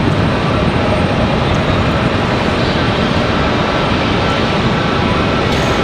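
An American Airlines airliner departing Charlotte Douglas airport for Rome, a loud, dense and steady jet engine roar close by, unbroken for its full length.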